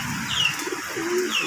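Pigeons give low, soft cooing notes in a loose rhythm, with a few higher chirps over a steady background hiss, near and moderately loud, with no voices.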